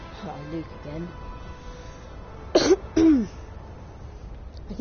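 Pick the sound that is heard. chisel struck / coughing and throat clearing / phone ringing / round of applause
coughing and throat clearing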